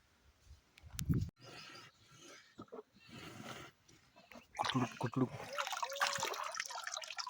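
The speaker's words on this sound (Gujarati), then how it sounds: "ભેંસને એક કેવી ટેવ છે ને ડોલ આડી રાખીને પાણી પીવે" Wet slurping and splashing of a buffalo drinking water from a bucket, up close, with a person talking and other movement noises around it.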